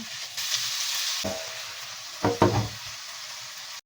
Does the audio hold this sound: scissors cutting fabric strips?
no